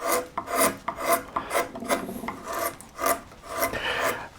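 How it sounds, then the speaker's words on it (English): Rhythmic rasping scrapes of a slightly flatter woodcarving tool shaving ridges off a carved wood surface, about a dozen close strokes in an even back-and-forth pattern, with no voices. "So what you would normally do, of course, is you start taking these ridges off. So I'm using a slightly flatter tool here."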